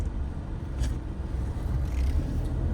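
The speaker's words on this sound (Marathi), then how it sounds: "मी काढतोय गाडी सोहमची" A car is reversed out, its engine giving a steady low rumble up close, with a faint scrape or two over the running motor and no talk.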